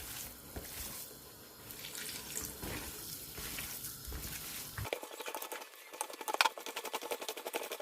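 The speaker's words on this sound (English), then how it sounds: "So I'm adding the water to it now." Water pours from a tap into a bowl of beef kebab mixture, a splashing, trickling stream in the first half, followed by faster wet pattering and squelching as it is worked in.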